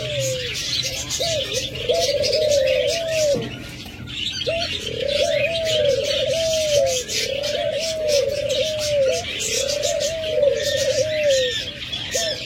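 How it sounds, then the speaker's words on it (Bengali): Doves coo close by in repeated rolling phrases, a low throaty rhythm recurring every second or so, with faint chirps and rustling behind. "যারা ঘুঘু পাখি ডাক পছন্দ করেন"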